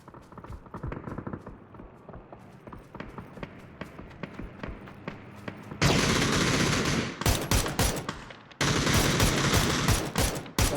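Gunfire in an online team match between Polish and Ukrainian players: scattered single shots at first, then loud sustained bursts of rapid automatic fire close by, with brief breaks between volleys.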